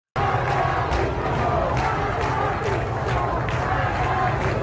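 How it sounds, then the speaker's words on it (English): Dense protest crowd in the streets of Tehran, Iran, a continuous loud roar of many voices with rhythmic chanted surges throughout, close and unbroken from start to finish. "Chanting death to the dictator."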